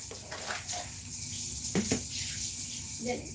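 Tap water runs continuously into a basin to soak food, a steady hissing stream with a few clatters and splashes, loud and close.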